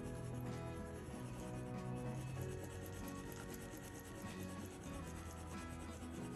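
A coloured pencil rubs continuously over paper close up, blending pigments on a drawn Disney face with a soft, steady scratchy friction.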